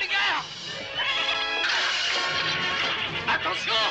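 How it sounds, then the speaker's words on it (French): Zorro's horse whinnies loudly in a drawn-out neigh with rising and falling pitch, heard over busy action sounds and music in a dubbed Zorro television episode. "Lancier, commandant, le cheval de Zorro."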